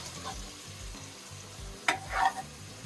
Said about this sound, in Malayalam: തക്കാളി ഇട്ട് കഴിഞ്ഞിട്ട് നമ്മൾ ഇപ്പൊ ഇളക്കി കൊടുക്കണേ